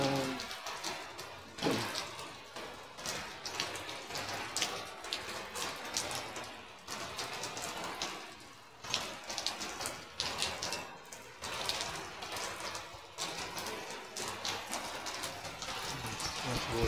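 Steady rain pours into a house, leaking through the roof like a shower, with a continuous dense patter of drops and splashing water filling the room, loud and close throughout.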